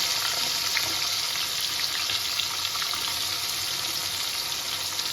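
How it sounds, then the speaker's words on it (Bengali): Bay leaves and chopped onion fry in hot oil for a mutton curry, giving a continuous close, bright sizzle with faint stirring and no voices. "এবার এই তেলের মধ্যে আমি তেজপাতা দিয়ে দেব আর সাথে পেঁয়াজ কেটে রাখা সেটা দিয়ে দেবো"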